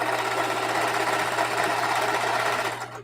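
A domestic sewing machine runs flat out, stitching a mitered binding onto loose mudcloth. It makes a steady, fast mechanical whir with a low hum underneath, close and loud, with no voices, and eases off just at the end.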